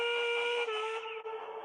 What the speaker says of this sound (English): Duncan whistled as loud and as long as he